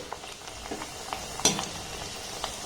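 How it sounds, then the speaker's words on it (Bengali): Shaped pakon pitha rice cakes deep-fry in hot oil, a moderate bubbling sizzle at close range broken by a few light clinks and one sharper knock, with no speech. "এবার যেগুলো পাখন পিঠার শেপ আমি দিয়েছি সেগুলো তেলের মধ্যে দিয়ে ভেজে নেব"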